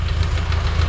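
Engine of a 1952 Ford 8N tractor idling, just pulled from a barn and running slightly rich; a low, steady knocking thump repeats rapidly and evenly, close and moderately loud, with no voices.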